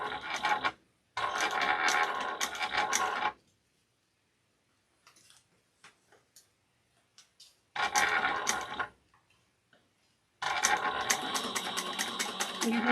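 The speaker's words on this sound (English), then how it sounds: "And then I'm going to sew this on at 1/4 of an inch." A sewing machine stitches a quarter-inch seam on a small bowler bag in three rapid, whirring bursts, separated by quiet pauses with small clicks and handling noises.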